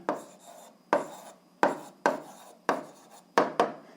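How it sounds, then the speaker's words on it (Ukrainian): Pen or chalk strokes writing an answer to an eighth-grade algebra problem, six or seven distinct scratchy strokes at a roughly regular pace, close and fairly quiet. "записуємо відповідь, пишемо відповідь"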